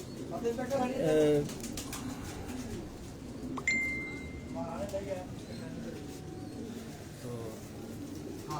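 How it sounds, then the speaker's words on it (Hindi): Rooftop pigeons coo softly in low, repeated calls amid ambient noise, with people talking nearby and a brief clink partway through. "माशाल्लाह कबूतर हमारे।"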